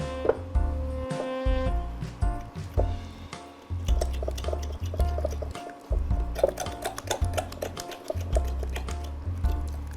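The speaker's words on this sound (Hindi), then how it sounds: "तो ये हम इसमें पानी डाल लेते हैं और बिल्कुल गाढ़ा सा एक बैटर बना लेंगे।" Water is poured into a millet flour mixture and stirred into a thick batter, giving close wet squishing and sloshing with irregular clicks and taps of a spoon against the bowl, heard alone without talk.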